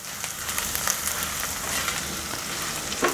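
Spiced string beans with Kashmiri chilli powder frying in a pan while being stirred, giving a steady close sizzle with faint scraping touches throughout.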